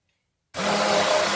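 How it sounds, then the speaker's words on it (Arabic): After a brief silence, an electric blender starts up abruptly and grinds a barley mixture steadily with a loud, constant motor whine. "غادي نخلطها مزيان بالخلاط الكهربائي"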